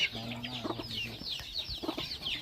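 Chickens and fowl cluck repeatedly in a farmyard, with overlapping close calls over a busy, continuous background murmur.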